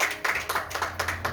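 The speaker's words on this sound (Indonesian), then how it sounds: "Ya, tepuk tangan dulu." A short burst of hand clapping from a church congregation, several people applauding in quick, steady claps for about a second.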